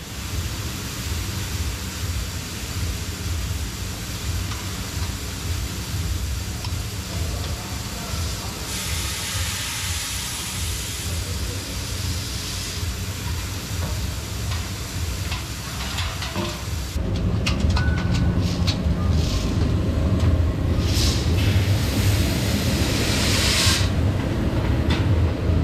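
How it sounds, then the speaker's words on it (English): Coffee beans carried up through the pipe of a roasting machine: a steady, loud rushing hiss and rumble that grows heavier partway through, continuous with no pauses. "That's all the coffee beans going up through there, into here."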